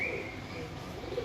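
Pigeons coo softly at close range while being paired, a low throaty murmur over a faint background hum, with a brief higher call near the start.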